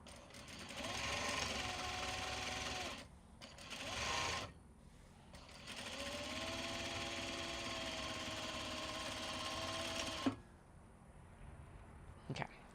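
A sewing machine stitches Japanese fabric close by in several runs, a steady mechanical whirring hum that stops and restarts between short pauses.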